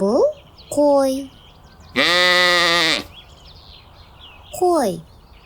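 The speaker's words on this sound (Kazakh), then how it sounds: "Бұл қой." A sheep bleats in several separate calls: two short quavering cries, then a long, loud, wavering bleat, and one more short bleat at the end, each alone with quiet pauses between.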